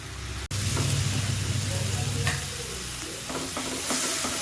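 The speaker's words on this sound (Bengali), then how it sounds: "খুব ভালোভাবে এটা ফ্রাই করে নেবেন, ওটার কাঁচা গন্ধটা যেন না থাকে।" Spice masala frying and being stirred in a pan for dal makhani, a steady close sizzle with soft scraping stir strokes and a sharp knock near the start.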